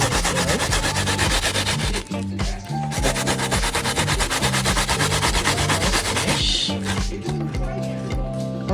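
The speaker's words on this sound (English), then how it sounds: "we're currently grating the bananas" Peeled green bananas rubbed by hand against a grater for Jamaican blue drawers, a loud close rasping scrape in quick rhythmic strokes with short pauses.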